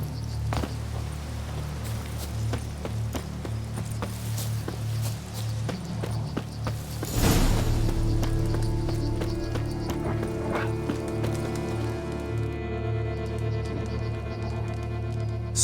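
Roach the horse trots along in The Witcher 3, hooves clip-clopping in a steady rhythm over a game soundscape, with a brief louder burst midway and sustained tonal ambience after.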